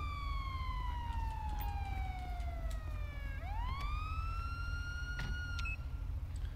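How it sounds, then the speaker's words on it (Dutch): A police car siren in the GTA video game wails in a long falling sweep, then swoops back up and holds, loud and close over a steady engine drone with no talk. "Even mijn sirenes uitzetten, want ik word zelf gek van mijn sirenes."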